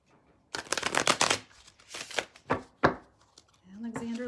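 Tarot cards riffled and shuffled close up in several quick bursts of rapid fluttering clicks, followed by a short voice near the end.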